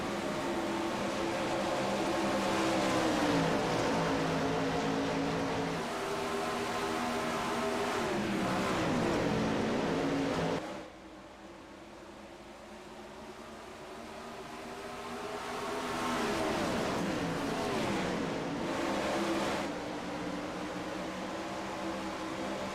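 410 sprint cars racing on a track under green flag, engines roaring loud and continuous with rising and falling pitch as cars pass, briefly quieter mid-way before swelling again.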